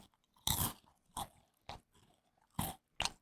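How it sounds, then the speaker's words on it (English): Food is chewed right at the microphone, with five loud crunching bites in an uneven rhythm separated by short quiet gaps. "Anyone who really gets off on the sounds of chewing,"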